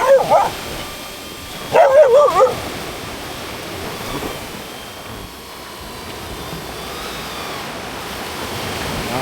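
A dog yips and barks in two short bursts, near the start and around two seconds in, while chasing a DJI Neo 2 drone over soft sand; faint surf and wind fill the rest.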